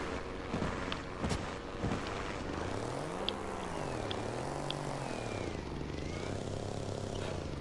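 Propeller aircraft with a four-stroke piston engine touching down smoothly in the game Trailmakers, its engine drone rising and falling in pitch as it settles, steady and close throughout.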